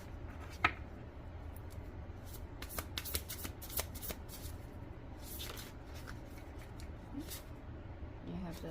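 Oracle and tarot cards are riffled and shuffled by hand, giving soft, quick papery flutters and taps up close, with a quiet voice speaking at times.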